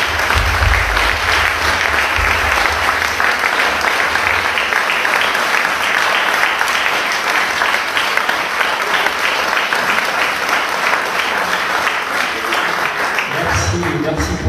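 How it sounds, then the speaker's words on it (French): Sustained loud applause from a large audience at a French conference talk, honoring volunteers; dense steady clapping fills the whole stretch and fades near the end. "merci pour vous applaudir"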